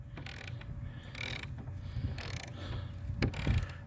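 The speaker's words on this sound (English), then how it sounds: "we do need to screw in that lag bolt on the corner, because it's sticking out about 1/2 inch" Lag bolt being driven into the corner of a wooden feast table built from 2x4s, 4x4s and 2x6s, giving a steady mechanical ratcheting whir with repeated clicking bursts, close and moderately loud throughout.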